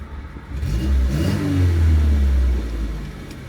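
A classic Renault R16 engine revs up and holds at a high, steady roar before easing back down, loud and close, with no talking.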